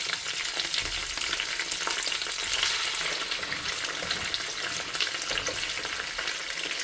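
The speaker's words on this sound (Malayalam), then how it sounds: "നമുക്കിത് പൊരിച്ചെടുക്കാം. ഓയിൽ ഒഴിച്ച് കൊടുക്കാം." Karimeen, pearl spot fish, frying in oil with curry leaves, giving a dense, continuous sizzle and crackle up close, fairly steady with small bursts of spitting; no one speaks.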